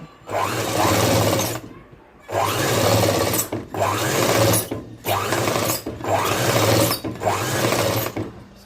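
A sewing machine stitches the lining of a long frock in five loud, close bursts separated by short pauses, each run rattling steadily with a quick needle rhythm.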